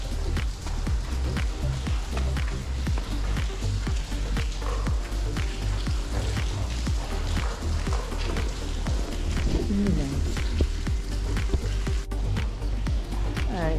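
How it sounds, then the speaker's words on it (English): Steady rain patters and drips at an abandoned power plant, a soft, continuous wash with scattered close drops and faint shuffling footsteps, fairly quiet. "it's kind of soothing because of the rain."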